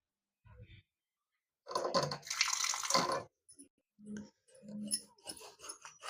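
Water runs briefly from a tap into a mixer jar in short splashing bursts, with quiet pauses between, while a person speaks between the pours.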